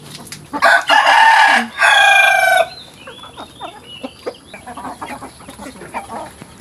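A rooster crows loudly and close by among newly arrived chickens at a Philippine backyard coop. After the crow, scattered clucks and soft calls from several birds follow.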